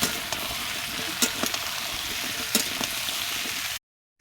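Chopped onion and papaya fry in hot oil in a pan, giving a steady dense sizzle with a few sharper crackles and stirring scrapes, close and continuous, until it cuts off abruptly near the end.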